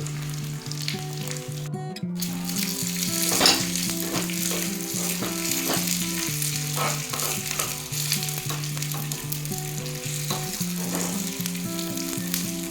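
Onions and curry leaves fry in hot oil for tempering, giving a continuous close sizzle with scattered pops and crackles throughout, over a steady tonal background.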